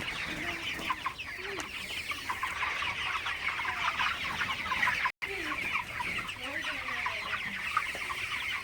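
A crowd of 29-day-old broiler chickens clucks and murmurs continuously at a moderate level, with occasional louder individual calls over a dense background of chirping.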